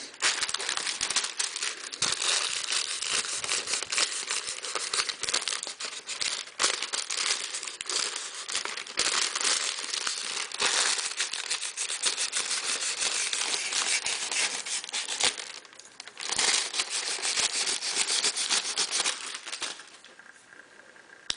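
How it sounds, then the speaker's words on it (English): A handmade wooden knitting needle being buffed with wax paper: continuous close crinkling and rubbing of the paper in quick back-and-forth strokes, with brief pauses, and no talk. "you're going to buff it out like you did with the sandpaper. And some of the wax from the paper is going to transfer onto your needle"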